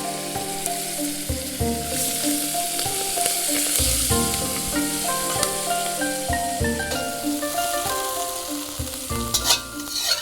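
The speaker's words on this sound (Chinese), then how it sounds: "现在呢，我们把牛腱子炒一下，把它给炒到7成熟" Beef shank stir-fries in hot oil in a smoking wok, giving a loud, continuous sizzle with scraping stirs and clatter throughout, close up and with no talking.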